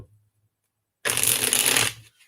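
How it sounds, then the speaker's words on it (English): A deck of playing cards riffled once in a quick, crisp burst of about a second, close and clear, after a near-silent pause with a faint low murmur at the start. "I'm having a hard time shuffling today."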